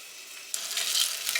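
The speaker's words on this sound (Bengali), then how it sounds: "সরষের তেল গরম করে জিরে ফোড়ন আর শুকনো লঙ্কা ফোড়ন দিয়েছি" Cumin seeds and dried red chilies dropped into hot mustard oil burst into a sudden bright sizzle that keeps crackling and spitting, close and fairly loud, no voices.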